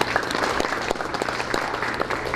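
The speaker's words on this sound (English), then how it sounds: "So let's give Miss Phyllis a round of applause" An audience at a school board meeting applauds a retiring school custodian. The clapping is brief, dense and fairly close, holding an even level throughout.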